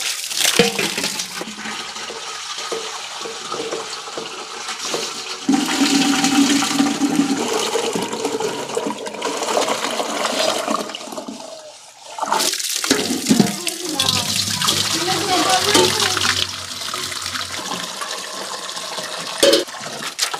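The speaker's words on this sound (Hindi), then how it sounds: "तो हम सभी डेगची में पानी भर दिए दोस्तों" Water pours and splashes into metal cooking pots (degchi) and a basin in a hill-home setting, a steady running gush with clanks of pots, filling continuously with brief breaks.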